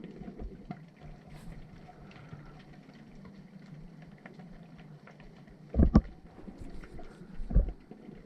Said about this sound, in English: The off-camera crunching noises you can hear are the fish actually biting the camera